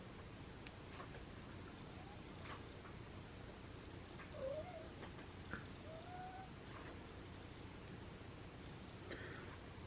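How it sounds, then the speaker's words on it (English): A house cat named Mr. Bunsen meows faintly a couple of times in a quiet room, short soft calls a few seconds apart with light ticking and tapping around them. "Mr. Bunsen, you are not being very good kitty right now."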